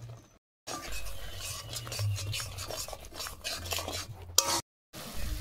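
Spice paste being sautéed and stirred in oil in a pan for a prawn and pointed gourd dish, a spoon scraping and stirring with soft sizzling, broken by brief silences.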